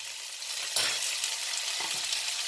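Tomatoes dropped into a hot frying pan while making samosa chaat: a bright, steady sizzle that flares sharply as they hit the oil, with a couple of soft stirring scrapes afterward.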